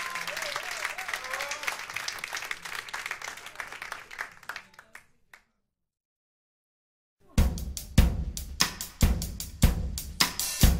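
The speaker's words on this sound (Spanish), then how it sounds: "Fuerte aplauso para Seba Sasali." Audience applause at a live show, a dense burst of clapping with talk over it, then a gap of silence before sharp loud claps return in uneven bursts.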